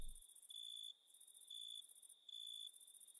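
Crickets chirp in the Minecraft video game, a steady high-pitched trill pulsing in regular bursts with short gaps, faint and alone with no talking.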